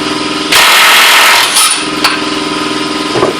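Cordless impact wrench, a DeWalt DCF899 or Ingersoll 2135QTI, removing wheel nuts: a loud burst of hammering that runs for about a second, then shorter bursts and a steady motor whine.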